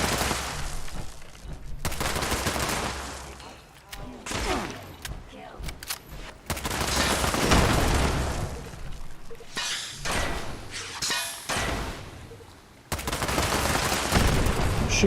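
Heavy weapon fire in Fallout 76, green plasma shots answered by enemy guns, arrives in dense overlapping volleys and thumping bursts, with a player's voice talking between and over the blasts.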